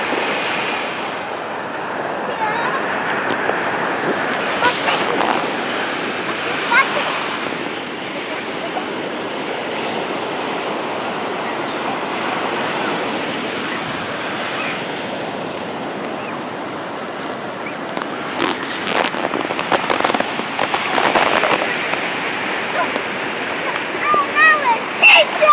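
Ocean surf rolls steadily onto a Florida beach, a continuous wash of breaking waves with wind buffeting the microphone, swelling louder near the end; voices of a family talk intermittently in the background.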